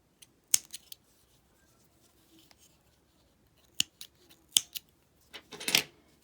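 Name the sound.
cutting off yarn ends of crochet peppermint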